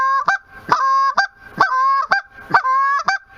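Four rhythmic calls on a Haydel H2 short reed Canada goose call, each a honking whine snapped off with a quick sharp back note, loud and close, sounding eager and excited.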